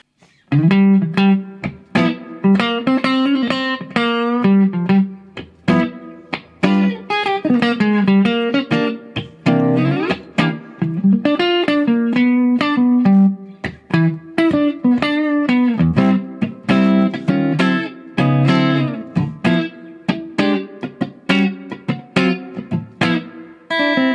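Electric guitar plays a lively run of picked notes and chords through a Blackstar St. James EL34 tube combo amp set to 2 watts, with a warm, slightly driven tone, loud and up close, without any voice.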